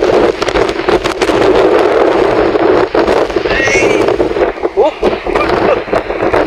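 Very strong typhoon wind (Typhoon Uwan) roars in a loud, continuous broadband rush with gusting surges, close to the microphone and buffeting it, while excited voices shout over it.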